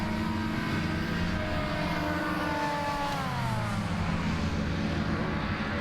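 Racing hovercraft engines roar past during a hovercraft race, a loud continuous drone whose pitch bends as the craft sweep by, with no talking.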